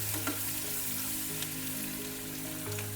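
A steady, dense sizzle of frying in plenty of oil, heard up close with occasional light stirring clicks and no talking.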